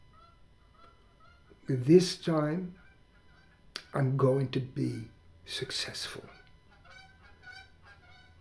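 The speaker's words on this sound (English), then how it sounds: "you may hear some geese who just flew over my house" Geese honk overhead as they fly past a house, short nasal calls scattered between and under a man's spoken lines, fading to faint repeated honks toward the end.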